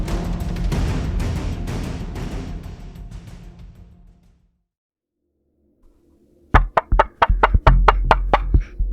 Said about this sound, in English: There is a knocking at the door.